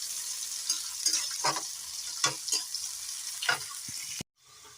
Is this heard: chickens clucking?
no